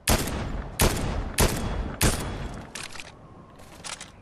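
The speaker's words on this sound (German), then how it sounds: "Ein Schuss noch." Gunfire in Fortnite Chapter 4 from an epic-rarity weapon: four loud, close, sharp shots spaced under a second apart, followed by two fainter reports as the firing tapers off, with no talking.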